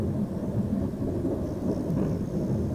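Steady rain with distant rumbling thunder in a wild grassland setting, a dense continuous wash of sound throughout with no voices.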